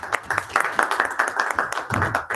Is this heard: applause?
yes